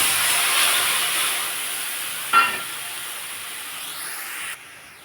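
Tamarind puree is poured into a hot pan after frying prawn-head pakoras, giving a steady loud steamy hiss with a brief sharper sizzle burst midway before it cuts off near the end.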